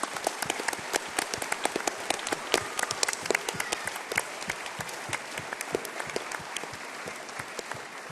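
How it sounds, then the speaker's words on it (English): A festival audience at WOMAD gives mentors a big round of applause, dense steady clapping from many hands held at an even level for several seconds, with no voices over it. "Give them a big round of applause."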